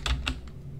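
A few quick computer keyboard keystrokes while a file path is typed, three soft, close clicks in under a second with nothing else around them.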